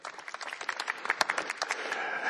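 A small audience at a trainers' practical coaching session claps in a brief, dense burst of overlapping hand claps that rises quickly and stays steady for a couple of seconds.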